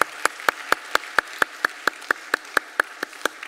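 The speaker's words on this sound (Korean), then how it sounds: "우리 박수로 한번 격려하겠습니다." A single pair of hands claps in an even, quick rhythm during a Korean church Wednesday service, about fifteen sharp distinct claps spaced evenly over a quiet background.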